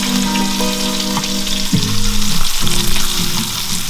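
Whitetail deer ribs searing in a hot pan, a loud, close, steady sizzle with a brief shift as the meat moves, no voices.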